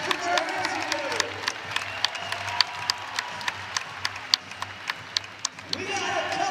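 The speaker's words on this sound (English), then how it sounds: "If you agree that family is wrestling, put your hands together." Crowd at a college wrestling meet between Nebraska and Utah Valley claps in a steady, even rhythm, sharp synchronized hand claps about twice per second over a low crowd murmur, with a voice over the loudspeaker at the start and end.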